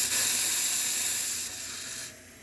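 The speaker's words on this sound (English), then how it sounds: "Nice strong steam" Steam wand of a La Pavoni lever espresso machine hissing strongly in a steady, loud rush, dropping slightly in force toward the end.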